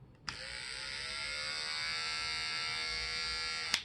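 A small electric hair trimmer switches on with a click and runs with a steady, quiet, high-pitched buzz for a few seconds before clicking off.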